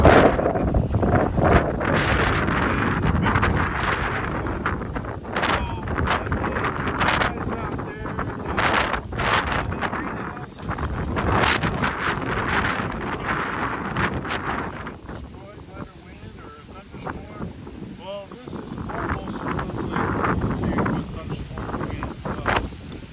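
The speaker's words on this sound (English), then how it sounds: "Winds are blowing really good. Nice gust picking up right now." Strong wind gusts outdoors at a greenhouse buffet the microphone in heavy, roaring surges that ease over time, with a voice talking faintly underneath.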